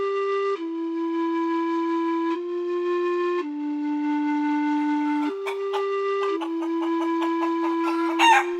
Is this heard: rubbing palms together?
no